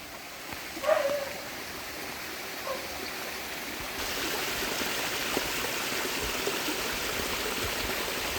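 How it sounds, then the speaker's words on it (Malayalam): Water from a pond runs down a small stream on a hillside cardamom estate in Idukki, a steady close rushing hiss that grows fuller partway through, after a brief faint sound near the start. "കുളത്തിൽ നിന്നുള്ള വെള്ളമാണ് ഈ കാണി കണ്ടൊഴുകി വരുന്നത്"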